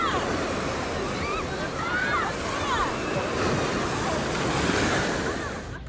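Ocean surf rolls steadily onto a beach, a broad continuous wash with wind buffeting the microphone throughout and faint voices in the background.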